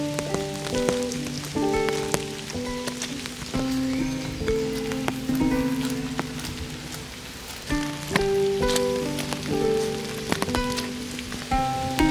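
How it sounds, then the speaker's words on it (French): Steady rain falls and patters on surfaces during a grey, rainy autumn-like day, a constant wash of hiss with soft melodic tones playing over it. "Ça fait 2 jours qu'il pleut et qu'il fait très gris"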